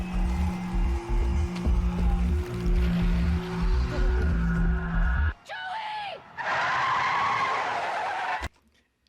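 Car tires screech in a TV drama score, a sharp skidding squeal that cuts in mid-clip after a dense, rumbling musical passage and fades out near the end.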